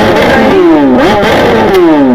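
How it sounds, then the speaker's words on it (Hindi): A BMW S1000RR sport motorcycle revs close by, its loud exhaust note rising and falling through a couple of throttle blips, with no voices over it. "तो एक बार एग्जॉस्ट नोट"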